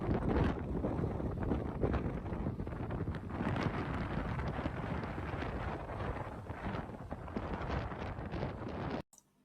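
Strong wind at Lake Yukonbean on a very windy day, a constant loud roar buffeting the microphone with low rumbling gusts, steady for the whole stretch before cutting off abruptly at the end.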